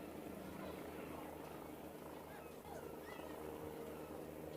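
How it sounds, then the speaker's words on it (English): Helicopter flying in and around a rugby ground, a steady faint rotor drone that holds evenly throughout, distant and low under the ambient noise of the ground. "I can see the helicopter coming in and around"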